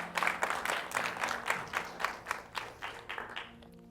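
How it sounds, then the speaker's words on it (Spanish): A church congregation gives loud applause at a worship service, dense clapping in steady bursts that fades out toward the end. "Den un fuerte aplauso al Rey de Reyes."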